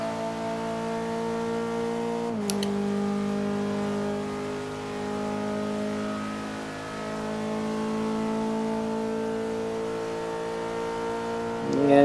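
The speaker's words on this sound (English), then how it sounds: "hard acceleration down toward Schwegenkreuz" A race car accelerating hard on the Nürburgring, the engine pulling through the gears in long rising drones with a sharp shift early on, loud and steady from inside the car, no one talking.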